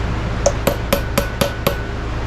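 Six sharp metallic taps ring out at an even rhythm as a bearing is tapped down onto the spindle of a Minn Kota Edge 45 trolling motor. The strikes are close and bright, with a low hum underneath.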